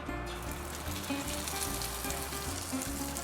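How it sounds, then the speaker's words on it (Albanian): Cheese-stuffed peppers fry in hot oil, giving a steady, crackling sizzle that stays close and even throughout, with a few soft pops and faint clatter beneath. "Vajin e kemi nxehur dhe tani po I vendosim një nga një"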